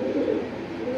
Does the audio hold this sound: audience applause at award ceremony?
no